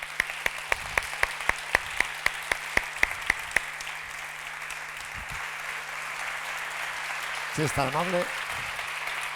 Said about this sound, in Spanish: ¿qué les parece si recibimos con un fortísimo aplauso